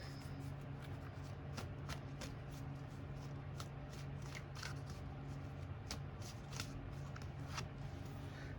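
Tarot cards being shuffled in the hands, a long run of rapid riffling flicks and soft slaps, close and quiet over a low steady hum.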